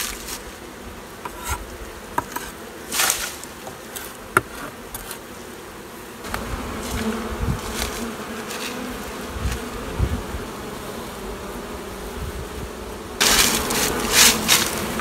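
A dense, steady buzz of many honey bees close by in a hive box, with occasional louder passes and some faint knocking and handling noises.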